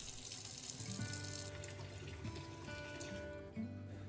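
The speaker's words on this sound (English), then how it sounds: "Start by filling your sink with warm water." Warm tap water running into a kitchen sink, a soft steady splashing flow with gentle trickling and faint clinks, quiet and close.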